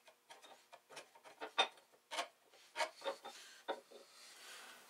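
Steel scribe drawn across a metal part clamped in a vise in a home machine shop, making a series of short, close scratching strokes in an irregular rhythm, fairly quiet with no talk.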